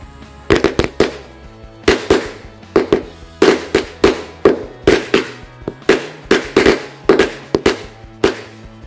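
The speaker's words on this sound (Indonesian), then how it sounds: "yang pertama kita nyalakan mercon korek" Mercon korek firecrackers set off inside a hole in the ground, popping in a rapid series of sharp, loud cracks in uneven bursts and clusters, with short gaps between volleys and no voices.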